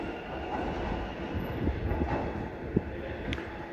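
A train pulls away from a station on the Ararat line in Victoria, a steady loud rumble of wheels and engine with faint clacks and a brief squeal near the end, no voices.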